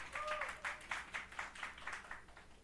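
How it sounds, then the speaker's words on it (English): Small audience applauding band members at a Tiny Desk concert, faint rhythmic clapping with loose periodic pulses and a brief whistle-like tone at the start, heard at a distance and fairly quiet. "Round of applause."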